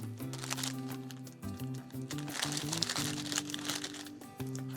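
A package is opened at a sewing table with steady, close crinkling and crackling of plastic or paper wrapping. The sound keeps going through the whole short stretch, and no talk is heard.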